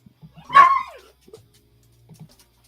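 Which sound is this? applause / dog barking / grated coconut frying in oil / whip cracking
dog barking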